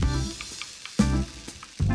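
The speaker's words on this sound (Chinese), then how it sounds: "把另一面也煎到金黄色" A grated potato hash brown fries in a pan over medium heat while its second side browns, giving a steady close sizzle that swells in short bursts with quieter gaps between.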